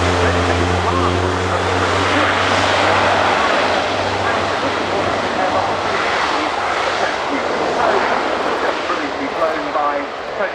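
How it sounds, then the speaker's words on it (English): Airbus Defence and Space A400M Atlas military turboprop transport aircraft at the RIAT 2018 airshow, its loud droning propeller engines roaring steadily throughout, with a low tonal hum early on and no clear talk over it. "lown by Tony Flynn and John Taylor, as ever, the Airbus Defence and Space A400M."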